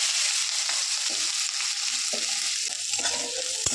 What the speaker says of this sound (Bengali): একটা শুকনো লঙ্কা নিয়েছি তেলের উপর দিয়ে দেবো এখানে আমি রসুন থেতো করে নিয়েছি রসুনটা করে দেবো